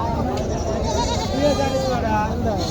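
Goats bleat among a busy crowd at a livestock market in Naogaon, Bangladesh, their wavering calls rising over a constant murmur of voices and background chatter.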